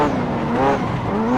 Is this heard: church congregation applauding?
no